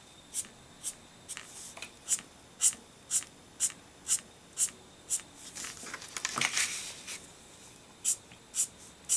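A paintbrush flicking paint onto paper for floral texture, a steady series of sharp, close spattering ticks at an even rhythm, with a brief denser rustle partway through and no voices.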